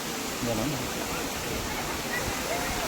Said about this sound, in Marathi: हा तो धबधबा आहे. जसं की पाणी बघा तुम्ही किती जोरात वाहतं इथून